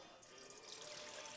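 The rest of the water for a quick pizza dough is poured into a bowl, a steady splashing stream that runs for a moment, fairly quiet and close, with no talking.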